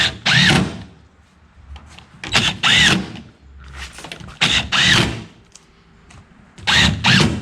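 A power drill drives screws into a custom Coosa board hatch on a kayak deck. It runs in four loud, close, whining bursts of about a second each, with short quiet gaps between them.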